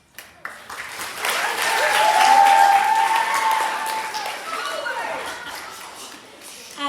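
Audience applause at a 2003 poetry slam, a dense wash of clapping that swells and holds for several seconds before easing off, with some voices audible in the crowd.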